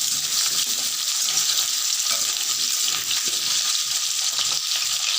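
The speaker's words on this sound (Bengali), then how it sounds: "লাল লাল করে আলুগুলো ভাজবো।" Potato pieces frying in oil in a pan, giving a loud, close, steady sizzle that continues unbroken throughout.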